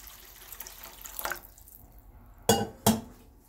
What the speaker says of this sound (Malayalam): ഞാൻ കുറച്ചും കൂടെ വെള്ളം ഒഴിക്കുവാണ്.